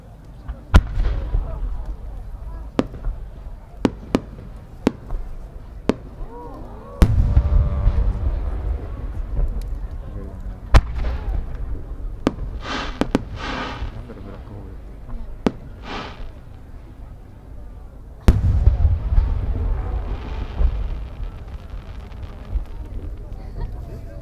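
Fireworks burst at the Omagari fireworks festival in Japan in 2019: sharp distant launch thumps and booms, some in quick succession and others spaced out, with crackling tails, crowd noise and wind rumble beneath, and a voice speaking at times.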